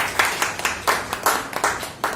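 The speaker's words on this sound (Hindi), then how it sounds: "तालियां।" A small group claps at a job versus business debate event, a few moderately near, uneven bursts of hand claps repeating over a couple of seconds with no talk.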